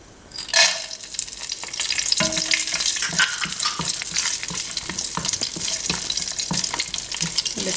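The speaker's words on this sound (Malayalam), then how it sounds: "അണ്ടിപ്പരിപ്പ് ഇടാം." Cashew nuts sizzle and crackle in hot coconut oil and ghee with cinnamon and cloves while cooking tomato rice; steady close frying hiss with clicks from stirring, starting after a quiet moment.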